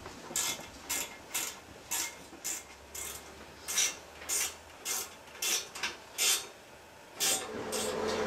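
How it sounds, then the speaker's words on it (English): Ratcheting wrench tightening the nuts on the closet bolts that hold a toilet down onto its flange, a run of about a dozen short, evenly spaced clicking bursts with brief pauses between strokes, close and fairly quiet, with no talking. "Make sure when you're bolting it down you don't over tighten it"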